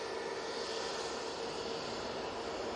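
Jet aircraft touchdown at Manchester Airport heard as a continuous, fairly faint engine roar with a broad hiss, no voices over it.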